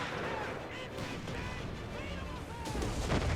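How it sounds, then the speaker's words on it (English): Heavy artillery fire in Company of Heroes, during a WW2 US assault on Italy, booms and rumbles through a busy battle, with whistling shells and a louder blast near the end. "we do have the artillery, but I wanna target it a little more centrally"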